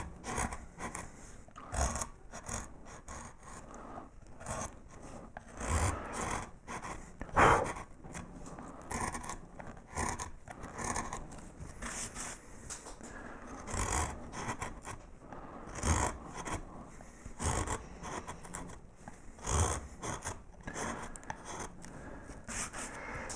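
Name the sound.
carving tool making rocking cuts at an edge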